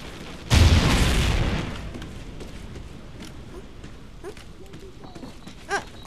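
A Call of Duty: Ghosts bomb goes off with a sudden loud, close boom that rumbles and decays over about a second, followed by quieter footsteps and small game noises.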